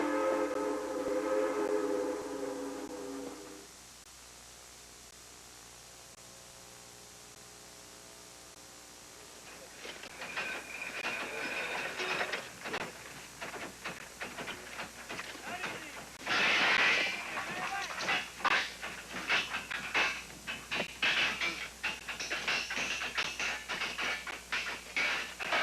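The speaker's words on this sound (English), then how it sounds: "And here comes a railroad" A steam train passes on the Chesapeake and Ohio Railroad in southern West Virginia: sustained whistle tones at the start, a quiet lull, then rhythmic chuffing and clatter building and staying close and steady.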